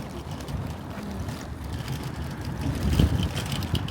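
Steady strong wind buffeting the microphone, a broad low rumble that swells louder toward the end.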